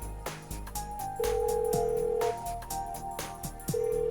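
Phone ringing unanswered in the video game Persona 4 Golden, repeated electronic ring tones over game music with percussive hits, moderately loud and without voices.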